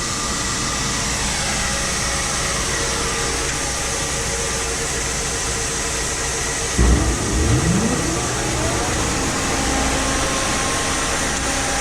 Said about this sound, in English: ahead and get this dryer started.